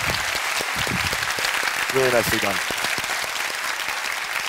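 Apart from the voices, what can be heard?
audience applause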